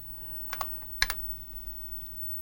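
Keys clack on a TRS-80 Model 4 computer keyboard in a short burst, a couple of quick presses and then a tight double tap, close and fairly quiet in a still room.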